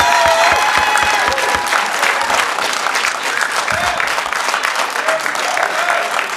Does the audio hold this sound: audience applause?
yes